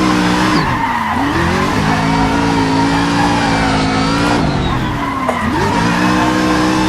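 Tires screech continuously through a sustained drift in the Assetto Corsa racing game, the squeal wavering in pitch over a steady, loud engine drone, with no voices.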